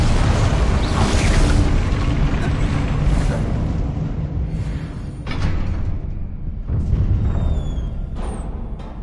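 Confringo explosive spell cast in Hogwarts Legacy, a loud continuous roar of booming blasts and rumbling bursts with a few sharper hits, no voices.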